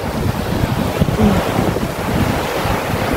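Surf washing onto the beach at Dakak, a steady loud roar of breaking waves mixed with wind buffeting the microphone, continuous with no talk.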